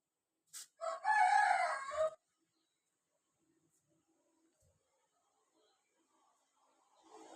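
A country rooster of a native breed gives one clear crow, close and fairly loud, followed by near silence with faint background sounds.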